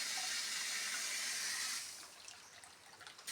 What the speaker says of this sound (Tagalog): Yan, tubig sa baba.